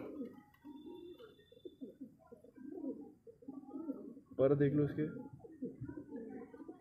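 Kaldume pigeons for sale coo softly in low, rolling bursts, with one louder close coo midway, while someone talks over them throughout.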